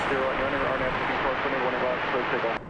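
A Boeing 787 taxis at night toward a hangar at Dallas Fort Worth airport, its engines giving a steady, loud whine and roar that cuts off abruptly near the end, with voices talking over it.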